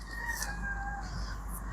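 Backyard chickens cluck and murmur faintly in a low, wavering call, a quiet farmyard sound heard at some distance.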